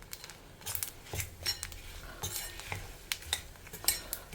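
Turmeric powder is stirred into a simmering kuzhambu: faint, irregular scraping and light spoon taps against the pan over a soft sizzle, close but quiet.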